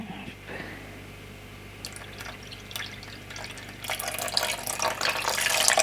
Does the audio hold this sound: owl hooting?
no